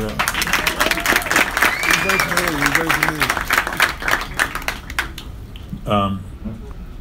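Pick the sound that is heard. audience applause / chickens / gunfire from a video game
audience applause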